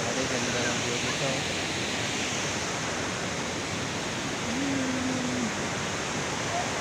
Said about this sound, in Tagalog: Dito tayo sa may Aliwagog Falls.